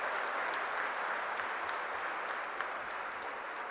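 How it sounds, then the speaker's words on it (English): A large audience applauds at a valedictory function of an endowment lecture series: continuous, even clapping from many hands, moderately distant and soft, sustained throughout with no voices on top. "A big round of applause for"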